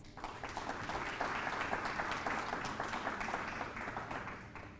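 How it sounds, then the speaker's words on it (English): An audience at a city beautification awards ceremony claps steadily for a few seconds, a moderately loud wash of many hands in an indoor hall. "Please give them a round of applause."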